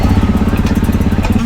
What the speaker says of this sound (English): Let's go ride some dirt bikes.